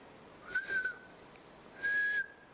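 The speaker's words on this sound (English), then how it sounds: "I can't do my whistle" Two short, thin whistled tones come from a person trying to whistle in a forest. The first wavers, and the second is a slightly steadier held note. Both sound quiet and close, with no talking.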